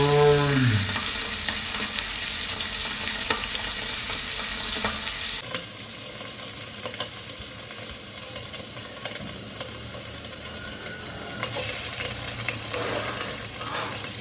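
Paneer shallow frying in hot oil gives a steady, close, continuous sizzle with faint crackles, with no speech.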